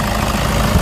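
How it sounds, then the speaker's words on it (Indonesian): A 2008 Toyota Kijang Innova V diesel with automatic transmission idles in its engine bay, a steady low rumble with faint knocking texture, close and even throughout, with no talk. "Mesin halus ya"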